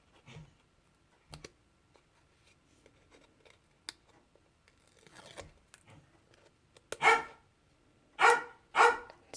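Several dogs bark at home, a few quiet scattered yaps early on building to three loud, close bursts of barking near the end, with light tapping and rustling in between.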